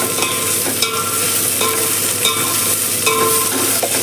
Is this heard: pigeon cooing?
no